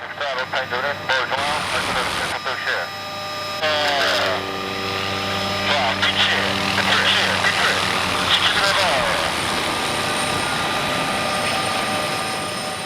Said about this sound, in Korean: 이제 신대위는 엔진이 꺼진 무동력 상태에서 헬기를 안전하게 착륙시켜야 한다.